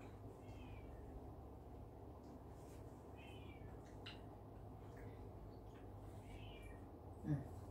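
A cat meows faintly about three times, with short, thin calls spaced several seconds apart, almost buried under a steady low background hum.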